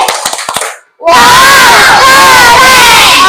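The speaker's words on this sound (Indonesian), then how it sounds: "Kalau sudah paham bilang tepuk wow." After a brief pause, a classroom of Indonesian children erupts into loud, sustained shouting of "wow" and cheering together, with clapping mixed into the noisy group outburst.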